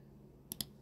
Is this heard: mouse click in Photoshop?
yes